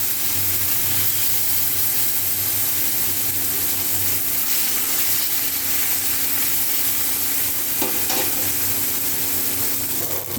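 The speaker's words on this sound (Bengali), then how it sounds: "মাছগুলো ভেজে নেব।" Rui fish frying in hot oil in a home kitchen gives a steady, loud sizzle and crackle that runs unbroken for the whole stretch, with faint stirring or pan scrapes and no talking.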